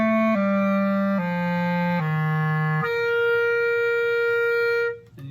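A solo clarinet plays a descending scale from B down to low F, each held note stepping lower in clean sustained tones, close and alone, before a higher note rings out and fades.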